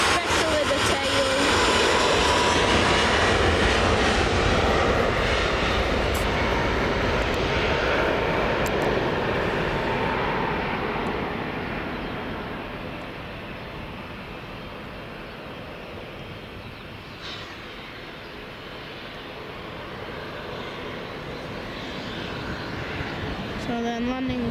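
Boeing 737 MAX 8-200 jet at Manchester Airport roars loudly and steadily, then gradually fades into a softer rumble as it moves away; a voice speaks briefly over the engine noise.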